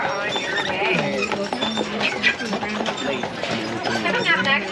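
Hooves of a horse pulling a carriage on Mackinac Island clip-clop at a steady walking pace, heard close beneath a person talking throughout.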